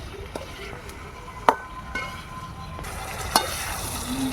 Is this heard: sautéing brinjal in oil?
yes